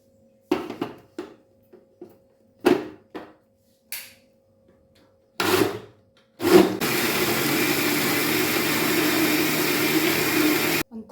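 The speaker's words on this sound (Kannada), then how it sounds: "ಇವಾಗ ಇದನ್ನು ಸ್ವಲ್ಪ ಮಿಕ್ಸಿ ಮಾಡ್ಕೊಂಬಿಡೋಣ ಬನ್ನಿ" A kitchen mixer grinder blends a homemade ice cream mixture: several short pulsed bursts first, then a loud continuous whirring grind for about four seconds before cutting off.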